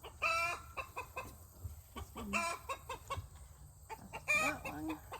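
Chickens give repeated loud alarm cries and clucks on a sheep farm, sharp squawking bursts recurring over a low steady hum, with one bird crowing near the end.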